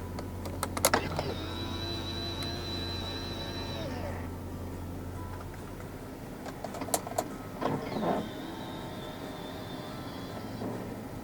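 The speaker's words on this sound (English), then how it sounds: "This car does have power folding side mirrors. To fold the side mirrors in from the inside, twist this knob down." Power-folding side mirrors on a 2008 Porsche Cayenne GTS whir through two separate cycles, each a steady electric motor whine of about three seconds. A few sharp clicks mark each cycle, and a low cabin hum runs underneath.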